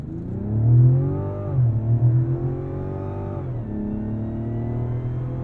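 A Mazda CX-90 Turbo S SUV accelerating hard to 60, its engine note climbing in pitch through the gears with two clear shift dips, loud and close from inside the cabin.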